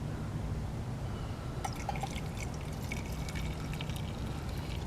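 Cowboy coffee is poured out of a pot, a low steady watery rush joined partway through by brighter splashing and trickling close by, with no talk over it.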